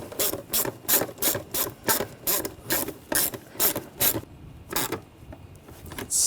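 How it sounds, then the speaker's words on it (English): A ratchet clicks in quick, even bursts while tightening a worm clamp on the air snorkel of a BMW 328i with a 3.0L inline-six, close and crisp, then slows to a few final clicks. "Tighten the worm clamp down."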